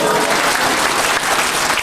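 Audience clapping loudly and continuously at a gathering, a dense, steady roar of many hands with no pauses and no voices.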